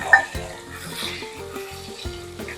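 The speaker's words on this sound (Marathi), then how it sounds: "चांगलं परतून घेऊया आपण" Finely chopped onion sizzles and fries in hot oil for a chicken masala, with a spoon stirring and scraping the pan in short repeated strokes, close and clear with no talking.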